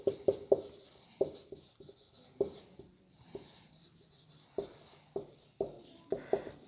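Handwriting notes on a board or paper for a cell biology lesson, a series of short tapping strokes and scratchy scribbles in an irregular rhythm, close and fairly quiet with no speech.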